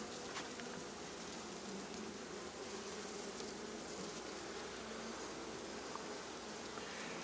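A continuous close drone of agitated honey bees swarms around an opened hive during inspection, dense and even throughout with no voices.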